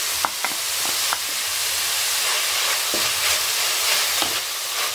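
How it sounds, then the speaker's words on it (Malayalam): Shallots, onion and ginger-garlic paste sauté in oil for a country-style chicken curry, giving a steady moderate sizzle with occasional light scrapes and taps from stirring. "ചുവന്നുള്ളിയും സവോളയും ഇഞ്ചി വെളുത്തുള്ളി പേസ്റ്റും ഒന്ന് വഴണ്ട് വന്നിട്ടുണ്ട്"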